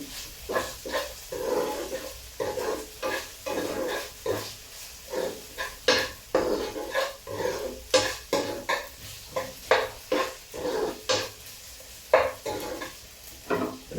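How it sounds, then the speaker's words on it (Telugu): Cashew nuts stirred in a hot pan, with rhythmic scraping and clattering strokes of a spoon over a light sizzle, repeating every second or so, close and fairly loud. "ఇప్పుడు ఈ కాసిన జీడిపప్పు కూడా వేసేసుకోవాలి."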